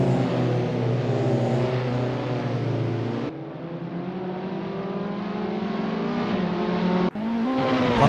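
Renault 5 Turbo racing at Dijon-Prenois in Assetto Corsa, the engine loud and close, holding a sustained rev that drops at a gear change, climbs again, then briefly cuts before rising once more.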